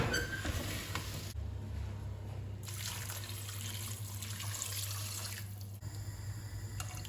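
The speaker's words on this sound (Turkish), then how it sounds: "Şimdi suyunu vereceğim." Water pours into a cooking pot of rice pilaf seasoned with cumin and a little turmeric, a steady nearby splashing rush with a brief pause partway through.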